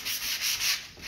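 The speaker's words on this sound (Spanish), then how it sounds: "Puedo lijar bastante los contornos." Hand sanding the edges of a textured plant pot holder covered in modelling paste, heard up close as a continuous scratchy rubbing with gentle back-and-forth strokes and no talking.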